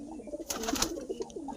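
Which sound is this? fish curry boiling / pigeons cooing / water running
pigeons cooing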